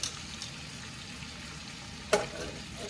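Spices dropped into a pan of sizzling butter chicken, a soft steady fry hiss with a brief scraping stir near the end, quiet and close.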